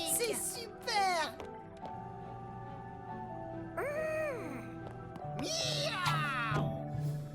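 A cartoon cat character meows several times in a high, bending, child-like voice, with bursts at the start, middle and end over a steady musical background.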